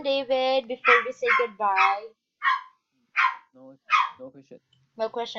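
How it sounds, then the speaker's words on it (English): A dog barks in short bursts in the background while two people talk in a classroom-style conversation, the yaps mixed in and partly masked by their voices. "I'm very sorry about the dog."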